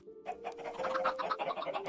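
Chickens clucking in a Minecraft auto farm, a busy run of short, overlapping game clucks and squawks that start after a brief pause and continue steadily at moderate level, with no talking.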